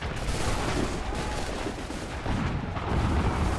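Gunfire in the Assassin's Creed 3 video game, a dense rattling fusillade of overlapping shots and booms that runs continuously for a few seconds with no gaps, at moderate level.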